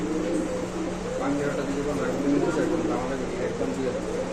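Lahori and teddy pigeons cooing steadily in a loft, low soft coos repeating under continuous nearby background noise and people talking.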